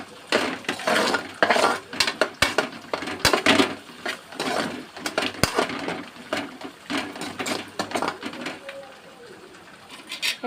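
Chicken curry being stirred in a pan, with a spoon repeatedly scraping and clinking against the metal in an irregular rhythm and sharp knocks, close and fairly loud, with faint background noise but no talk.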